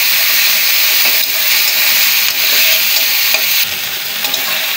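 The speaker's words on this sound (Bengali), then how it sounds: "চিংড়িটা এই যে ভাজি করে নিচ্ছি" Prawns frying loudly in hot oil with cumin, a dense continuous sizzle close up with occasional stirring scrapes and small bumps from the pan.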